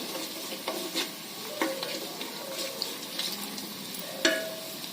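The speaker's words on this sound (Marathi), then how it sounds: "त्यामध्ये 3 मिरच्या मध्यम तिखट असलेले बारीक उभं चिरून टाकायचं. परतून घ्यायचं." Slit green chilies sauté with softened onion in a pan, a steady close sizzle with occasional light scrapes and taps of a stirring spoon, no voices.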